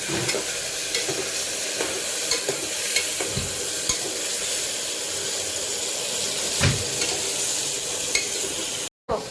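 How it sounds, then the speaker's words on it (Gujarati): Vegetables tempered in hot oil with cumin and asafoetida sizzle loudly and continuously nearby. Frequent scrapes and clinks of a stirring spoon run through it, and the sound cuts out briefly near the end. "એની દીકરી શાક વઘારે"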